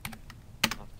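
Keys struck on a computer keyboard while a date is entered into an Excel spreadsheet cell, a few crisp close clicks in two quick bursts, with no voice.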